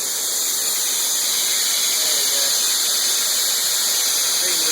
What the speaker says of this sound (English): You can probably hear that loud steam leak.